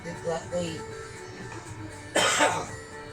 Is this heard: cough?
yes